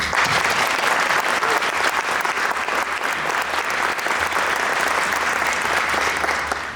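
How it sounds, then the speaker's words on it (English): Loud, sustained applause from an audience at a hunger-relief charity event, dense clapping filling the room steadily for several seconds before easing slightly at the end. "So let's give Farsby a round of applause."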